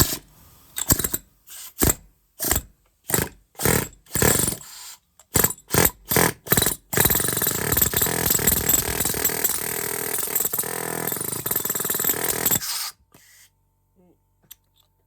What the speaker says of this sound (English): We got the compressor going now, so that'll fire up.